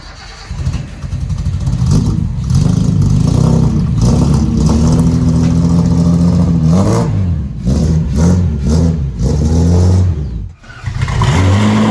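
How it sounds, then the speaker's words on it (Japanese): A powerful Ferrari engine warming up idles with a deep rumble, then revs up and down several times, loud and close. "フェラーリエンジンのウォーミングアップ"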